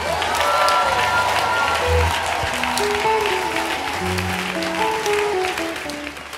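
A large crowd claps loudly and steadily for about six seconds at a worship gathering, with sustained musical tones running underneath the applause.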